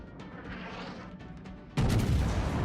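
Battleship main battery guns firing in a naval combat game, a sudden heavy boom that breaks over steady background rumble and keeps roaring loudly to the end.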